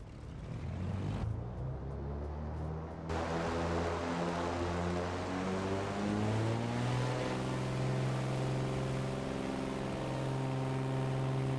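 A LearJet 35A in Microsoft Flight Simulator 2020 runs up for takeoff: a steady, loud jet engine whine with a rising, shifting tonal pitch that swells continuously over several seconds, with no speech.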